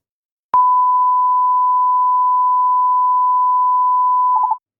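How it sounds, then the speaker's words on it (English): A steady pure test tone used in an audio localization illusion sounds continuously for about four seconds after a sharp onset click, ending with three quick beeps, loud and alone with no other sounds. "I'll play a tone."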